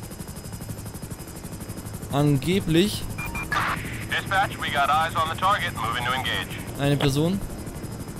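A helicopter in the video game GTA 5 gives a steady rotor drone throughout, while someone talks over it in German at length.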